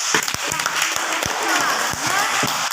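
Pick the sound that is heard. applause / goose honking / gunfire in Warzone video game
applause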